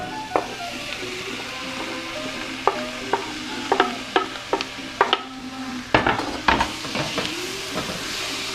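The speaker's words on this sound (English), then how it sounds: "So it starts to sizzle a little bit." A vegan Indian fusion curry paste with tomato fries in a pan, giving a steady close sizzle punctuated by repeated clinks and scrapes of a stirring utensil against the pan.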